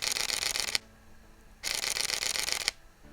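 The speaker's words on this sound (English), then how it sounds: "the Fujifilm has a very nice shutter sound" A Fujifilm X-H1 camera shutter fires in high burst mode right against the microphone: two dense, loud bursts of rapid mechanical clicks, each lasting about a second, with a short quiet gap between them.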